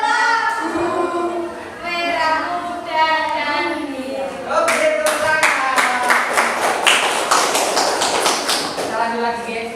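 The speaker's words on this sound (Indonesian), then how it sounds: "Tepuk tangan untuk kalian semua." A group of schoolchildren in an Indonesian classroom claps together after a song. Dense, quick clapping rises midway and carries on for several seconds, with singing and voices heard before it.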